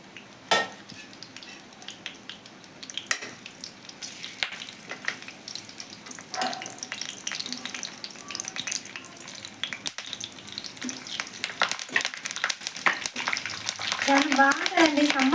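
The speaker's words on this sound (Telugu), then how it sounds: "ఆయిల్లో ఫ్రై చేస్తాను." Tempering spices and a sprig of curry leaves fry in hot oil with a continuous crackling sizzle, close and moderately loud, rising toward the end with some stirring clinks and a voice briefly heard.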